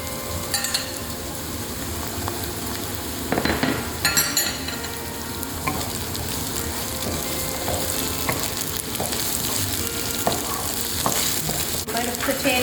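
Ginger garlic paste fries in a pan with continuous loud sizzling while a utensil stirs and scrapes, adding occasional clinks against the cookware as it cooks for an eggplant curry, with no voices.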